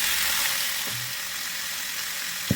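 Pork belly sizzles steadily in a pan with already-sautéed onions for Filipino pork mechado, a constant bright frying hiss with a couple of faint clinks of a utensil.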